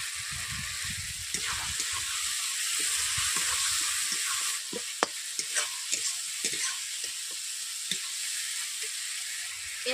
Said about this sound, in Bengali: কড়াইশুঁটিগুলোকে আমি মশলার মধ্যে কষিয়ে নিচ্ছি।